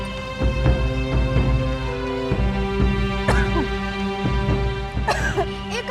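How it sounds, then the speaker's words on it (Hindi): Someone coughs repeatedly in short harsh bursts with throat clearing, close by, over a steady background hum. "इतनी खांसी?"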